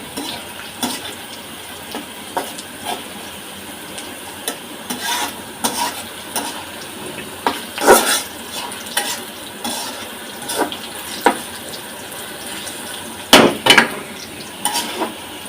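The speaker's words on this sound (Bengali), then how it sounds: "এই পেঁয়াজগুলো কিন্তু অনেকক্ষণ ভাজতে হচ্ছে" Onions fry in a pan over a long stretch, a steady sizzle broken by scraping and clinking as a utensil stirs them now and then, close and fairly loud.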